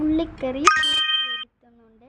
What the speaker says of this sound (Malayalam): ആ സൗണ്ട് വരുന്നത് മെസ്സേജ് വരുന്നതാണ് കേട്ടോ